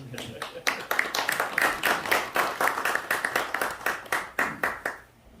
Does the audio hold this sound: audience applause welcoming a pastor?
yes